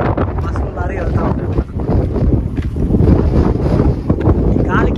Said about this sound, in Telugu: అంత గాలి అయితే వస్తుంది అన్నమాట